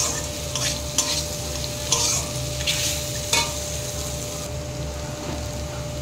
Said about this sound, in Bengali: দিয়ে একসাথে ভালো করে আবার আমি নেড়ে নেব